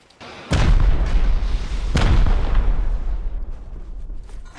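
Rocket explosions in the video game Rust sound as two loud, heavy booms, the second about 1.5 seconds after the first, each followed by a long rumbling decay.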